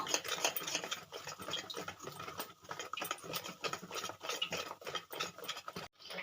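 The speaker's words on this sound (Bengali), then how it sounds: "এবারে দিয়ে দেবো চালের গুঁড়ো এবারে আমি ভালো করে এটা ফেটিয়ে নেব" Rice flour batter for patishapta pitha being whisked by hand in a bowl, a steady close run of quick rhythmic scraping and tapping strokes that continues for several seconds, no talking.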